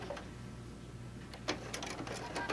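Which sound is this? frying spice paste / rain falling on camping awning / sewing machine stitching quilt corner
sewing machine stitching quilt corner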